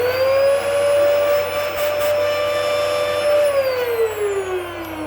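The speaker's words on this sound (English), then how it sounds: "that is one clogged Dyson" A clogged Dyson vacuum cleaner runs with a loud, steady high-pitched motor whine that holds constant, then drops in pitch near the end as the airflow changes.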